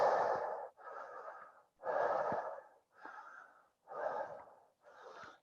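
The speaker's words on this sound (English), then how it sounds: "2 more breaths." Deep, slow breaths during a yoga exercise, six long inhales and exhales alternating in a steady rhythm, close and fairly loud, with no talking.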